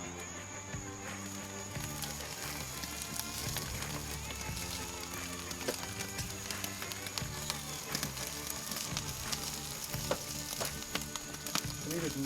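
A tomahawk ribeye steak sears directly in the flames of a Big Green Egg, giving a constant loud sizzle and crackle with popping fat, while someone talks over it.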